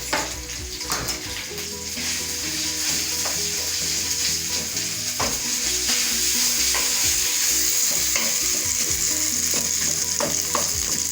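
Corned beef sizzles and fries steadily in a pan for spaghetti sauce, a loud continuous crackle with occasional stirring scrapes and utensil clinks, no voices.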